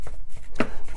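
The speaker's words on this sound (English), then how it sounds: "You want it chopped fairly small" Ground beef, a 1.5-pound batch for Salisbury steak patties, chopped with a few soft repeated strokes and one sharp, close cut standing out near the middle.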